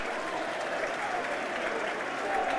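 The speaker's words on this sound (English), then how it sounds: "so good applause for Josh Coburn." Football crowd in a stadium at Millwall against Charlton Athletic applauding a substituted player, a broad, distant roar of clapping that stays steady, with faint crowd voices underneath.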